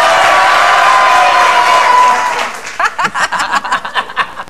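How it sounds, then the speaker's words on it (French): A studio audience at a French-language television comedy show breaks into dense applause and laughter. The full, steady crowd noise lasts about two seconds, then thins into choppier, rhythmic bursts. "on entend des applaudissements et des rires pendant votre émission"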